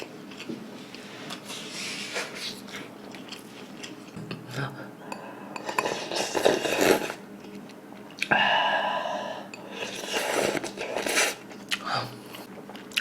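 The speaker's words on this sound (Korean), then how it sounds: "왜 자꾸 이거 쩝쩝거리는 소리가" Lips smacking and wet chewing while eating beef seaweed soup ramen, close and intimate, with clinks of cutlery against a bowl in irregular bursts.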